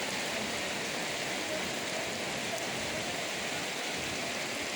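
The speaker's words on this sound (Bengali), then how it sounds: "অনেক বৃষ্টি হচ্ছে সেই আকারের।" Heavy rain pours down continuously, a dense loud wash of hiss and splatter at constant level filling the whole stretch, with no clear voices over it.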